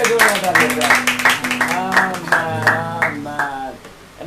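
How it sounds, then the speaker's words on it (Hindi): A church congregation claps for Jesus after a prayer, a run of brisk rhythmic handclaps under a speaking voice. "चलिए जोरदार ताली हो जाए, प्रभु यीशु मसीह के लिए जोरदार ताली हो जाए।"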